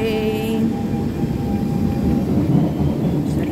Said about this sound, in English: So another train the other side.